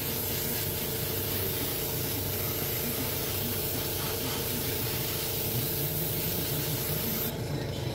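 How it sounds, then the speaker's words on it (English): An airbrush sprays paint over rivets in a continuous, even hiss held close to the microphone for the full stretch, steady in loudness, with the brighter top edge dropping away just before the end. "Spray on it kind of light and then get thicker and thicker"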